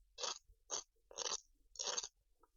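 Chewing a crispy, well-puffed pizza crust right at the mic: four loud, distinct crunching bites in quick succession, with no talking over them.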